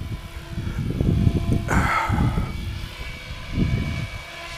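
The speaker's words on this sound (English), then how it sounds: "Now he's flying his helicopter." A radio-controlled model helicopter flies over a field, its engine a steady buzzing drone with one brief louder swell as it passes, heard from a short distance with no talk.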